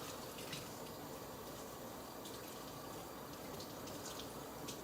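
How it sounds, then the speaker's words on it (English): Cold water pours from a kitchen tap over fresh basil, a steady, soft hiss and splash that stays even throughout, heard alone and fairly quiet. "So I'm just going to turn the cold water back on."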